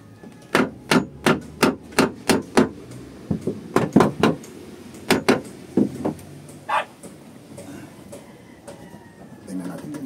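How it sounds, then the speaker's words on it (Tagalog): Hammer blows on a Mazda car body, a quick run of about eight sharp strikes followed by more irregular knocks, close and loud, with people talking in the background. "Martilyo daw, martilyo."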